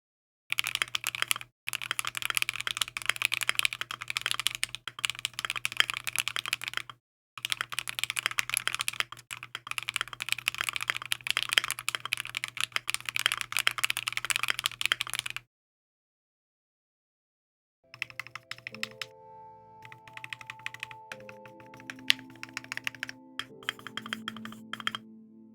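Brisk typing on a computer keyboard clatters nearby in two long stretches separated by a short break. After a silent gap, lighter, sparser keystrokes follow over a faint tonal background.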